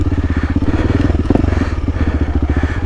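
Honda CRF300L dual-sport motorcycle engine chugging hard during rough offroad riding, a loud, close, steady low throttle thrum with rapid pulsing firing beats and a few clattering knocks from the terrain, no talk.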